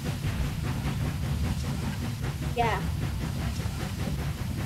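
A train rolling along in the physics game Human Fall Flat, with a steady rumbling, rhythmic clatter and a brief squeal, while players talk over it.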